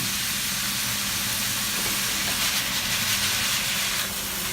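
Meat sizzles in a hot pan as it cooks with salt and pepper, a loud, dense, continuous hiss with no pauses, and no voices over it.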